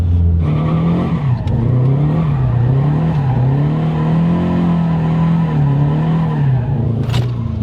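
A turbocharged Scion FR-S engine drones loud and close at a steady pitch as the car slides under handbrake, tires scrubbing, with a brief rise near the end.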